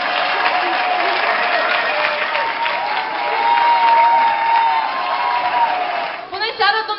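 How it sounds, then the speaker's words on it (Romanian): Television studio audience applauds to welcome an independent candidate onto the set, with sustained clapping, some cheers and whoops, and a voice cutting in near the end. "Să-l întâmpinăm cu aplauze, vă rog!"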